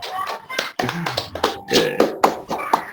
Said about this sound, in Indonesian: Boleh nggak tolong tepuk tangannya teman-teman?